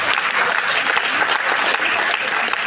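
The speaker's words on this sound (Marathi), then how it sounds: "जोरदार टाळ्या यार, जोरदार." Loud, dense audience applause fills a Mi Lifestyle motivational marketing event, a steady wash of many hands clapping at once without a break.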